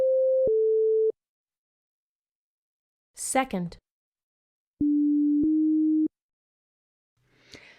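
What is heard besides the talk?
music aptitude test tonal item tone patterns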